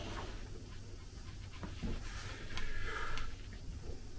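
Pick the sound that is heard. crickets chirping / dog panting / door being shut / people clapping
dog panting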